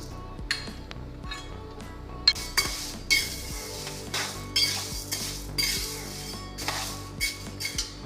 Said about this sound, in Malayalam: പയറും അരിയും ചൂടായ പാനിലിട്ട് വറുക്കുക.